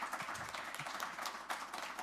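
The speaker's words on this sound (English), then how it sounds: "Let's give them another round of applause." Applause from an audience for panelists at a Democratic club meeting, a soft continuous patter of many hands clapping, faint and somewhat distant.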